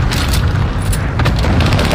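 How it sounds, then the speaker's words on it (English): A heavy, loud, continuous rumbling boom from an airstrike fills the whole moment in the video game Warzone, with voices talking over it. "Enemy position airstrike, stay alert!"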